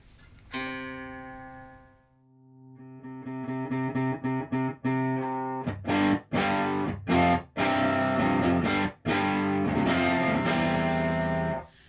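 Sustained electric guitar chords ring out through an amp room simulation on a Universal Audio OX Amp Top Box, growing into louder, rhythmic strummed bursts with a roomy, reverberant tail filling the space.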